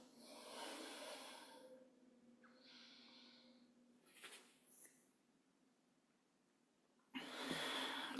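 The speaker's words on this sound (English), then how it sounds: "Just listen to the breath" Slow breaths during a yoga session for releasing tension in the shoulders and hips, soft and close, with long airy exhales, a quiet pause, then a stronger breath near the end.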